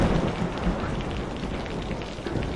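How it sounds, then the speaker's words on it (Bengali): A heavy downpour hisses steadily and densely throughout, with no breaks in the rush of falling water. "মুষলধারে বৃষ্টি পড়ছে।"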